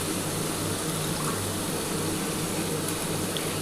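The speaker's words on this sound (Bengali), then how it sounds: "এবার সামান্য অল্প একটু জল দিয়ে দিচ্ছি।" A small amount of water is poured into a pan of Bengali potol posto, a steady close gushing splash that runs unbroken for a few seconds over a low background hum.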